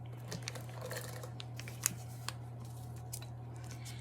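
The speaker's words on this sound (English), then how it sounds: "Might need to cut it open probably." Scissors cut open the packaging of a Joy French vanilla oat milk creamer. Sparse quiet snips and crinkles sit over a steady low electrical hum, with one sharper cut standing out.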